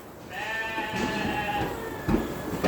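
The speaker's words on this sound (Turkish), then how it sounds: "Yaşlı koyun." An old ewe bleats in a long, wavering call, then gives a shorter bleat near the end. The flock is kept for meat fattening, and faint farm background noise runs underneath.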